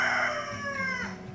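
Homestead chickens cluck and let out a drawn-out, strained crow close by, the tonal call rising and falling over about a second before fading.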